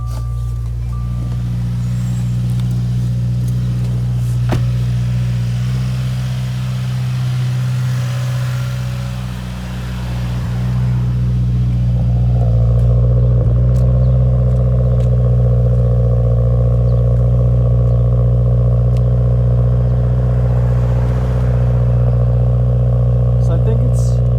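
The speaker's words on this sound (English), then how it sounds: "we're gonna do a cold start, just to have you hear how the exhaust sounds" A 2021 Subaru WRX with a stage 1 tune runs at a deep, steady cold-start idle with exhaust drone, revving up partway through and holding a louder rumble; a voice talks over it.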